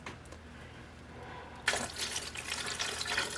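Water pouring onto cashews in a blender jar, a faint hum giving way to a sudden bright splashing stream that keeps running steadily and close.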